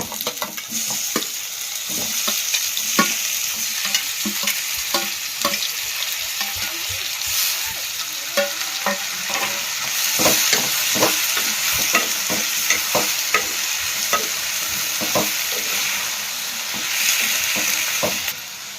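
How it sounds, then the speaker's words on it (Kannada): Tomatoes go into onions already frying for a tomato chutney, giving a loud, continuous sizzle with frequent stirring scrapes and taps against the pan over a long stretch and no talking. "ಇವಾಗ ಏನೈತ್ರಲ್ಲ ನಾನು ಟಮಾಟೆ ಹಾಕೊಂಡ್ರಿ."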